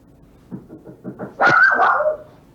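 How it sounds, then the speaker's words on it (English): A loose dog barks indoors during a pancake griddle cooking contest: a run of soft, quick yips builds into one loud, drawn-out, whining bark close by, with no talk over it. "The dog got out."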